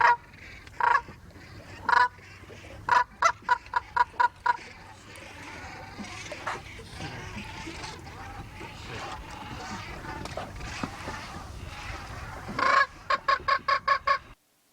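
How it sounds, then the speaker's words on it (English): Atlantic brant geese honk in repeated bursts of short, evenly spaced calls, loud and fairly close, with quieter flock chatter filling the gaps between volleys. "Here's a great example of a nice mature Atlantic Brant."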